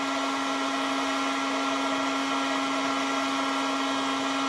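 A heat gun blows hot air onto a Kydex sheet to soften it for a knife sheath, a steady close whirring hiss with a constant motor whine and no change in level.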